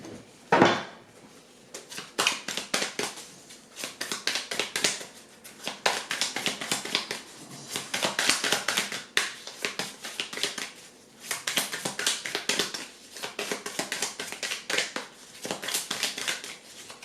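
Tarot cards are shuffled and cut in quick bursts of crisp, papery riffling and tapping, close and fairly faint, the clusters repeating with brief pauses between them and a sharp knock near the start.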